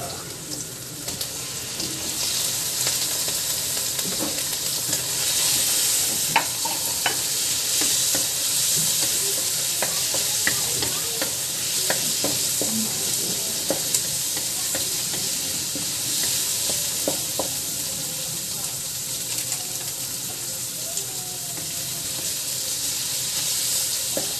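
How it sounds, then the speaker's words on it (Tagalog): Pork fat sizzles steadily in a hot pan for a Filipino dinuguan, a loud continuous frying hiss with scattered pops and scrapes of stirring, no voices. "unahin natin igisa ang taba"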